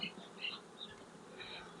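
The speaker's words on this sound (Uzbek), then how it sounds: "Faqat bundan erkak asalari chiqadi." Drone honeybees buzzing on a hive frame in a drone-rearing colony; soft, close insect hums swell and fade in several brief bursts over a quiet background.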